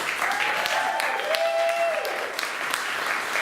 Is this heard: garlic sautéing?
no